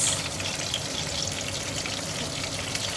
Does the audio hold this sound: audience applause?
no